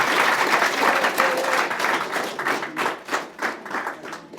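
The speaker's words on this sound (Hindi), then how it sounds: "तालियां उनके लिए" Audience applause for a guest on a talk show, a crowd clapping in a dense burst that thins into scattered, uneven claps toward the end.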